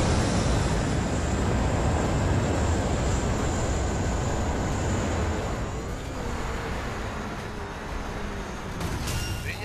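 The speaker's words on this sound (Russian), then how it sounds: "Самолетик!" An airplane flies overhead in the video game The Crew, a steady broadband roar that holds loud for the whole stretch and dips slightly in the middle before swelling again.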